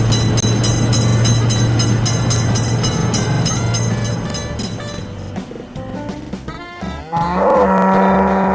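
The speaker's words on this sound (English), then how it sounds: "Attention, train is coming." A cartoon train passes a level crossing in a children's animated game, with loud music-like tones and a rumbling passage that drops off, then a bright sustained horn-like tone near the end.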